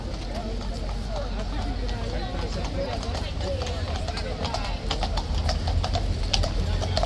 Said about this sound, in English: Oh, this horse is clopping over to...